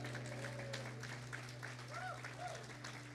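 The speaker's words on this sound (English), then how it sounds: "Give Jesus a mighty hand clap." A church congregation claps for Jesus during a worship sermon, a steady wash of hands beneath a low hum, with voices and faint tonal calls rising over it throughout.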